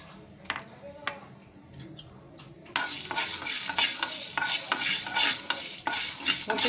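Roasted gram (pottukadalai) is stirred and tossed in a pan, making light scraping and rattling at first. A loud, dense sizzle then starts and holds steady under continued close stirring.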